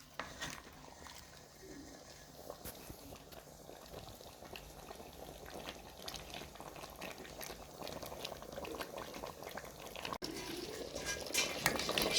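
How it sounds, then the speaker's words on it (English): Vegetable rice with carrots and green pepper boils steadily in a pot over a village home fire, a continuous bubbling hiss that grows slightly louder toward the end, with no talking. "Added veggies are here cooking well."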